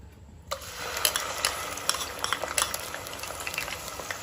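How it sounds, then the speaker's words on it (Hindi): Onion paste fries in oil with cardamom and cinnamon, a sudden hiss bursting in as it hits the pan, then a continuous close sizzle punctuated by repeated spoon scrapes and taps, no speech. "तो प्याज को हमने 3-4 मिनट के लिए फ्राई कर लिया है"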